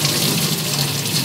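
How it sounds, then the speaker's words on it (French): Tap water runs steadily and fairly loud for the whole moment while cured pork tenderloins are rinsed under it in a kitchen sink, with no talk. "Au bout des 8 heures, on va pouvoir sortir ces petits filets mignons ici et venir les rincer."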